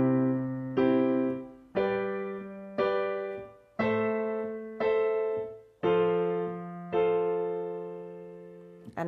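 A piano plays a slow 1564 pop chord progression of sustained chords, the right hand striking each twice and leaving it to ring, with about eight evenly spaced attacks.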